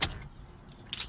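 2014–2016 Toyota Corolla switched off with the key: a brief jangle of keys at the start, a short quiet, then another metallic rattle of the key ring, close and soft with no engine noise.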